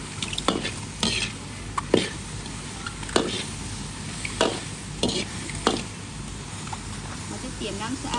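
Mushrooms with chili stir-fried in a pan, Lao-style, giving repeated scraping stir strokes over a steady sizzle, with speech heard between strokes.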